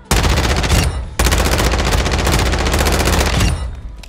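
Rapid automatic gunfire from a gun fitted with a spiral muzzle in Warzone 2, two loud close bursts separated by a brief pause, the second long and sustained before trailing off.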